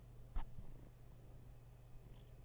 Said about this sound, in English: Listen to this purr.